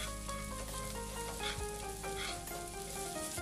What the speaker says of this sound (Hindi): मसालों के साथ मैगी को थोड़ी देर के लिए भून लेंगे